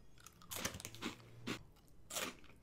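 Hot Honey Mustard Dinamita stick Doritos, rolled tortilla chips, being bitten and chewed close up, with several sharp, crisp crunches in quick succession and no talking.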